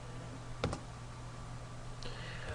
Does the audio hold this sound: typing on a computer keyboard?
yes